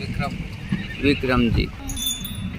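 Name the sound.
horses at a horse fair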